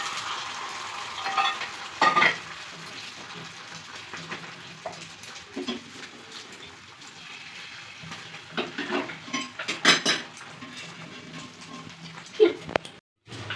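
An egg fries in a pan for an egg roll, with a soft continuous sizzle broken by scattered scrapes and clinks of a utensil against the pan. Occasional voices are heard.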